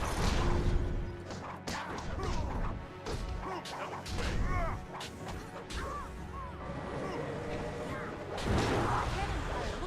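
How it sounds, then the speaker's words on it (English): Crashing explosion and impact effects from the game Jade Empire played on an original Xbox, with sharp bangs and smashing hits scattered through a busy, cluttered mix of game sounds. "There's like an explosion."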